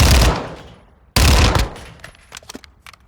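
Kriss Vector submachine gun in Call of Duty Modern Warfare II, two loud rapid bursts of automatic fire, each tailing off, followed by faint clicks and clatter.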